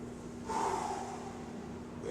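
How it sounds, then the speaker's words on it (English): A person draws in a slow, audible breath on the way down into a squat during a fitness workout, a soft breathy rush lasting about a second over a faint steady hum. "I'm going to breathe in through my stomach on the way down."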